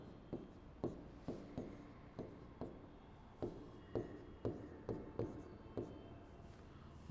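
Pen strokes scratching on paper as chemistry notes are written by hand, a series of short rhythmic scrapes and taps, quiet and close, with no talking.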